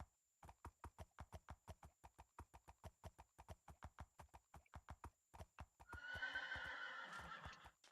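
Horse in the Minecraft video game trotting with steady, rapid clip-clop hoofbeats, then a loud drawn-out neigh near the end, all fairly close with no talking.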